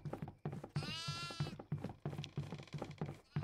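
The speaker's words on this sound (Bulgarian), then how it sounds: "Но къде отива тая тъпа коза?" A goat in the horror video game DEVOUR gives one drawn-out, wavering bleat, set over a steady rhythmic thumping of game sound.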